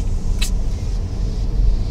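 Mercedes-Benz GLC 200 AMG SUV heard from inside the cabin while driving, a steady low road rumble and muffled engine drone with a brief faint click early on, no talking.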